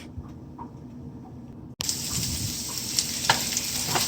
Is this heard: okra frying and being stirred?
yes